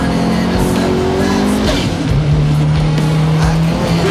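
A 600 hp Subaru GT Turbo roars loudly and continuously around a track lap, its engine droning close with a shift in pitch midway and faint tire noise.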